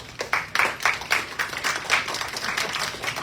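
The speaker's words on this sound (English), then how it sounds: "Everybody give them a big round of applause" A group of people claps at a steady rhythm, moderately loud. The applause is brief and fairly even throughout.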